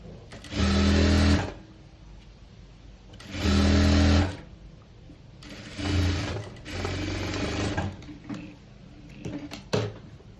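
Sewing machine stitching a trouser seam in bursts: two long loud runs, then shorter, softer starts and stops, with quiet pauses between.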